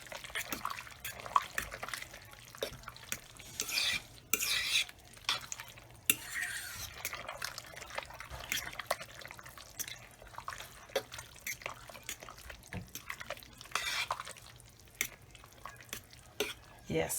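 A spoon stirs bagged Kraft mozzarella into macaroni in a crockpot, producing soft, wet, sticky squelches and scrapes that come and go irregularly at a low level.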